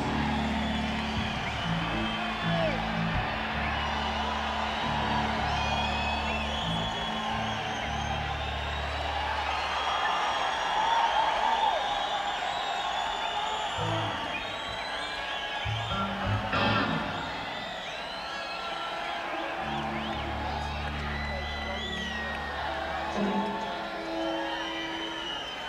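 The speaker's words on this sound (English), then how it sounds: "applause, lads" Concert crowd at The Forum in Inglewood, California, during the ARMS concert, cheering, whooping and applauding in a broad sustained roar, with rhythmic low pulses and swells across the whole stretch.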